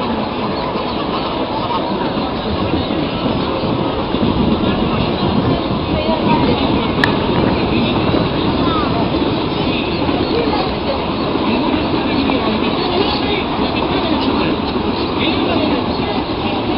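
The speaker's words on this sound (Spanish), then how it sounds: "Ese es el tren, ferrocarril Mitre, que va hacia la zona norte." A Mitre line railway train in Buenos Aires heading north, heard as a steady, loud rumbling roar with rattling wheels that holds for the whole stretch, with a bicycle ride through Palermo going on nearby.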